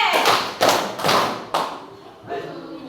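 A classroom group performs a rhythmic clap routine, with about four sharp, unison hand claps landing in an irregular beat, each leaving a short room echo before the sound tails off.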